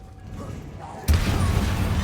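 In the Hogwarts Legacy video game, a Confringo blast spell erupts after a quiet stretch of faint mechanical creaks, landing as one sharp, loud explosion that settles into a sustained rumbling crackle.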